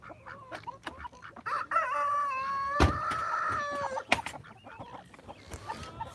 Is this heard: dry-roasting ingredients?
no